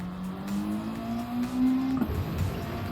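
A Subaru WRX STi with a Porsche engine swap, tuned to 1000 horsepower in Gran Turismo 7, climbs steadily in pitch as it revs hard, then drops off abruptly after a shift, with a synthetic, game-like tone.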